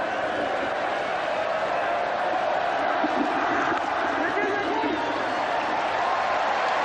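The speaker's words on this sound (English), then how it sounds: "Listen to the crowd." A packed cricket stadium crowd roars at a 1992 World Cup semi-final between Pakistan and New Zealand, a continuous wash of distant cheering and shouting that holds steady throughout.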